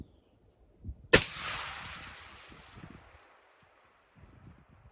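Single sharp rifle shot from a 6.5 Larue AR-10 firing factory Hornady American Gunner ammunition, a loud crack followed by a long fading rumble outdoors, with light wind noise around it.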